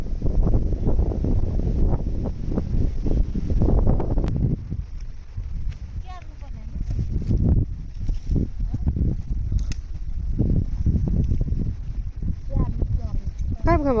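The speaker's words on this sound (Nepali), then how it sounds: "हावा चल्ने फेरि आज त के साह्रो" Strong wind gusts outdoors buffet the microphone with loud, rumbling roars that rise and fall throughout, while people talk over the noise.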